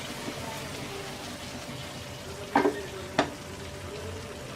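Bakhra begun, a Bengali eggplant dish, cooks in a pan with a steady low sizzle, broken by two short clanks of a spoon stirring against the pan.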